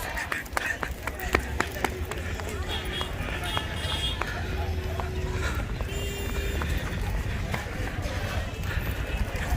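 A loose water buffalo runs through the crowded Gabtoli cattle market, its hooves clattering in quick irregular beats beneath a constant din of people shouting and talking nearby.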